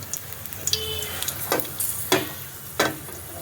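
Dried red chillies and a bay leaf crackle and sizzle in hot oil in a wok, a steady close frying hiss broken by a few sharp pops and spits.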